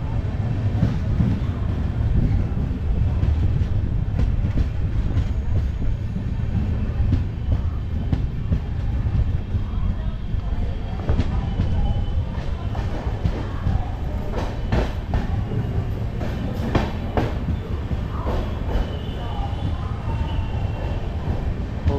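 A train rolls steadily past platforms near Chennai Beach station in India, heard from on board with a constant loud rumble and rattling wheel clatter throughout.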